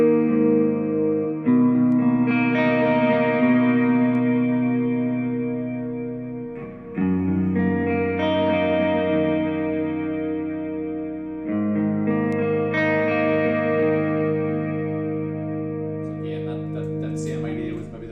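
Electric guitar played through a modulated reverb pedal, sustained chords swelling in three long phrases with a shimmering, wavering wash that trails off between them, loud and unaccompanied by speech.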